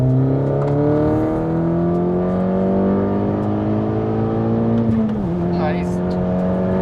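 Audi S3 with about 400 hp accelerating hard from inside the cabin, engine note climbing steadily through a gear with a brief shift dip near the end, loud and continuous while people talk over it.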